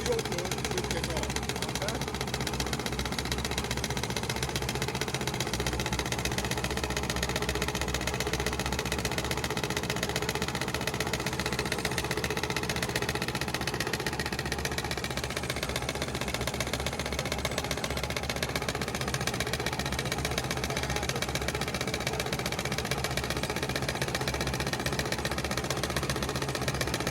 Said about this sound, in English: So right now the gas engine is spinning the diesel engine under compression.